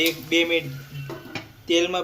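Kantola (spiny gourd) curry tempered in hot oil, with short sizzling bursts and stirring clatter in a pan, close and fairly loud, coming in separate pulses.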